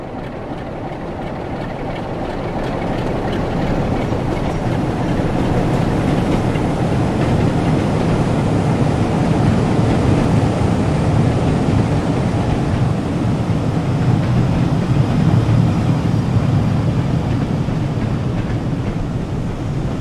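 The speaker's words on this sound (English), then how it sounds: "The 1041 to London Euston now arrives, taken by" Locomotive 47421 'The Brontes of Haworth' pulls the 10:41 service to London Euston into a station in a train simulator game, giving a loud, steady rolling rumble that swells slightly and holds without a break.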